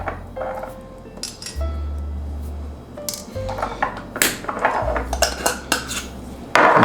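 Metal measuring spoons clink and clatter against each other and a container while ground spices are measured out, with several bright, sharp taps and jingles spread irregularly over a low hum.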